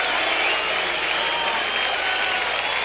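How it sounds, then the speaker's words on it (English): A large stadium crowd at the 1977 MLB All-Star Game roars and applauds in a dense, continuous wash of cheering that stays loud throughout. "as we listen to the crowd reaction"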